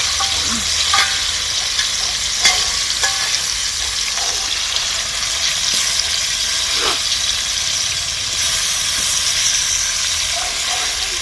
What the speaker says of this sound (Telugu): బెల్లం ఉడకబెట్టిన కాకరకాయలు ఫ్రై చేసుకోవాలండి.